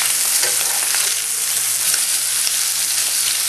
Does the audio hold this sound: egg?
yes